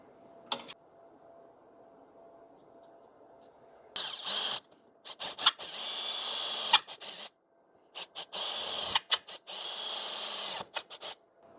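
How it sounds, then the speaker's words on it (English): A power drill cross-drills a steel table leg for a plasma cutting table, coming in as several loud bursts of whirring with short gaps between them after a quiet opening. "we're going to cross drill again at the same location"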